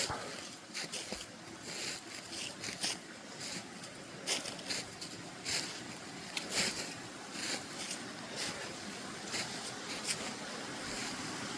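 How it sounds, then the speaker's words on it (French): Water rushes steadily at a small canal lock on a snowy morning, a constant broadband murmur with scattered nearby crunches like slow footsteps on leaves. "c'est quand même agréable sur ce sol enneigé d'entendre le bruissement de l'eau"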